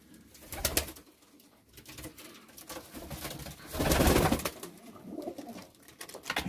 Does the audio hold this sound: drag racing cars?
no